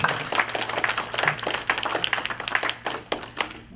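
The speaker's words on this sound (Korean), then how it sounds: "박수로 맞아주시기 바랍니다." Audience clapping in welcome at a memorial ceremony for founding president Syngman Rhee, a steady patter of hands from a modest crowd with a low hum underneath, continuing for several seconds.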